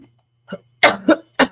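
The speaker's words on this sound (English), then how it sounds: "they be making me cough and stuff" Three sharp coughs in quick succession after a short throat noise, close and fairly loud, brought on by an aerosol spray in an indoor room.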